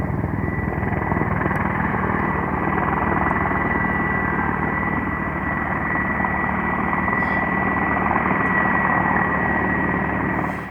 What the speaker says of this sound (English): the helicopters and bombers climbed into the air for bombing